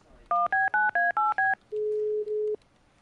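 Six quick touch-tone beeps on a telephone keypad as a number is dialed, followed by a longer steady tone, all clear and close.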